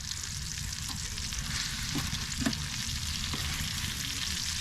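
A thick piece of steak fries on a camp stove during hot tent camping in Louisiana, a loud continuous sizzle and crackle of hot fat with faint scraping of a utensil in the pan.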